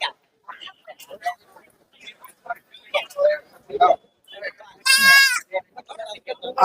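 A goat kid at a busy goat market in Kunnathur gives one loud, close bleat amid people talking intermittently nearby.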